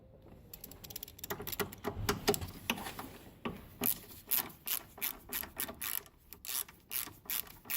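Ratcheting wrench clicks and metallic scraping while undoing 10 mm nuts on a VW Passat B6 2.0 TDI PD engine, in short repeated bursts that get more regular and evenly paced toward the end, close up with no talk.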